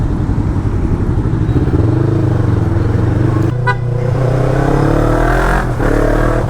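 A Yamaha MT-03 motorcycle engine drones loudly at a steady high pitch around 6000 RPM while riding on the road, with wind rush and a brief horn-like toot midway.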